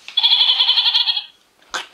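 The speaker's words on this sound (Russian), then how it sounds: "Козленок." A goat kid gives one loud, close, wavering bleat that lasts a little over a second, followed by a short sharp sound, with no voices.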